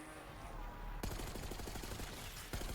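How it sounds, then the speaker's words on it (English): Black Ops 6 Zombies gunfire starts suddenly after a quiet second, then rattles in rapid automatic bursts of sharp shots, fairly faint, with another crack near the end and no talking. "they just shot a guy in the morgue suit"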